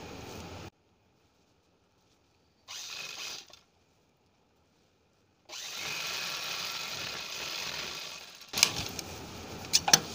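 A sewing machine stitches a blouse seam under foot-pedal pressure, running in bursts: a short run, a pause, a brief second run, then a longer steady run, with a few sharp clicks near the end.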